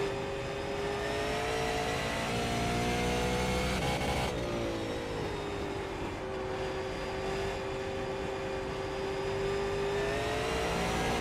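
Race car engines drone steadily in a NASCAR racing video game at Nashville, a sustained mid-pitched whine with a brief shift partway through, loud and unbroken throughout.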